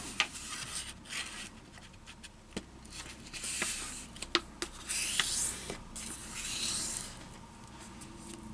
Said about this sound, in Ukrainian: Тепер в іншу сторону складаємо листок з кута в кут